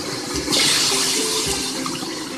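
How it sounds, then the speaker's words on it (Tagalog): Water pours into a cooking pot while pancit batil patong is being made in a home kitchen, a steady splashing rush that swells briefly near the start and then continues evenly, with no one talking. "lagyan natin ng tubig"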